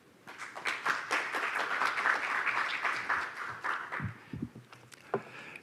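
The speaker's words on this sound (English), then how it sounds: "Please greet him with applause" A conference audience at a Korean Economic Association anniversary event breaks into sustained applause, a dense wash of many hands clapping that thins and fades toward the end.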